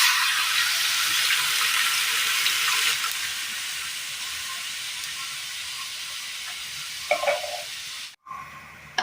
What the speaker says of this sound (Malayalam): ഒരൽപ്പം വെള്ളം കൂടി ഒഴിച്ചു കൊടുക്കാം.